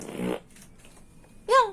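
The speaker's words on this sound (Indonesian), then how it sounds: "lagi direkam kamu kentut" A fart ripples out after a brief burst of speech, short and fairly loud, sounding up close while someone eats candy.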